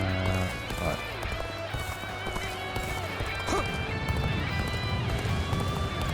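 Hooves of a galloping horse in the video game Dynasty Warriors Origins, a rapid clip-clop running beneath game music and sound effects, with voices speaking over it.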